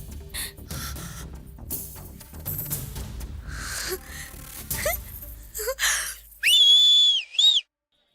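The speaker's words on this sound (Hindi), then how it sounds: "किसने बजाई है सीटी?" A shrill whistle is blown twice near the end, the second blast shorter, following a stretch of noisy commotion, gasps and voices at a wedding being halted.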